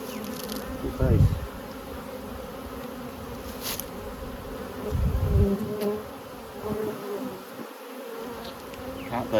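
Honey bees from beehives being moved in November hum in a steady, close buzzing drone that swells and fades, with occasional quiet talk nearby.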